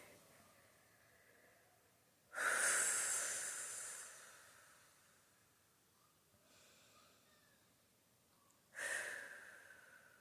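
A person breathing deeply, with two loud, close, breathy inhale-exhale rushes separated by a quieter stretch, alone with no talking.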